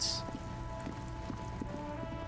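Rain falls steadily in the video game Disco Elysium, a continuous soft patter with light drops over a low humming backdrop, no voices present.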